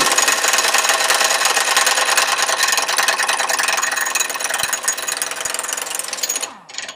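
A Husky H4480 cordless impact wrench hammers hard at close range, a dense rattling burst that runs steadily for several seconds, then slows and cuts off near the end.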